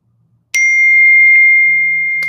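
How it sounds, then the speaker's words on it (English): A phone text message notification sounds a single bright ding that rings on as a sustained, slowly fading tone, clear and close over a faint low background hum. "Oh, I just got a nice text message."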